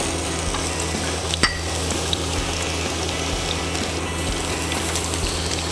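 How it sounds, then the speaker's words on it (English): Garlic, ginger and onion sizzle loudly in a hot pan while cooking crab in coconut milk, a dense continuous crackle and hiss with an occasional clink, no talk. "So I've already got a hot pan here, so I'll go in straight away with my aromatic ingredients"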